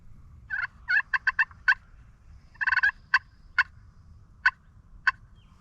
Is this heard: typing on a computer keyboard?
no